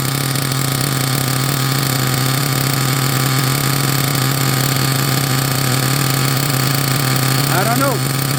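A Team Associated MGT nitro RC truck engine runs steadily at a constant buzzing idle for the whole stretch, close and loud, with a brief higher revving blip near the end.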